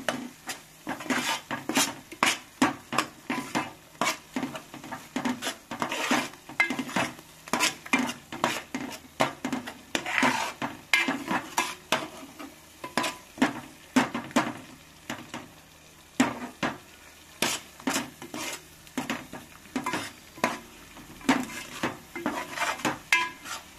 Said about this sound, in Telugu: పచ్చివాసన పోయే వరకు ఫ్రై కావాలి.